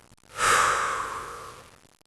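A single deep breath drawn in and let out slowly, close and clear, a soft airy rush that swells quickly and fades over about a second and a half with no talking.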